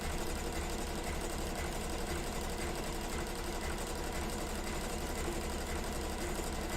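A sewing machine runs an overcast stitch along denim for a storage bag, giving a continuous, even whirring hum with no pauses, close by and unaccompanied by talk.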